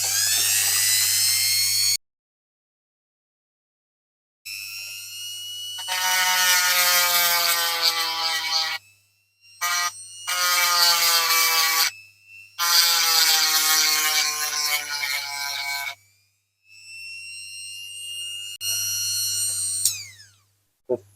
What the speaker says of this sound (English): here we are with our grinding tool, and we just want to take this edge off here